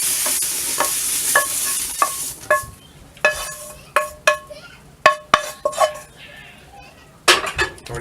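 Chopped zucchini being stirred into simmering spaghetti sauce in a pan, with repeated spoon clinks against the pan in an uneven rhythm over a soft steady sizzle.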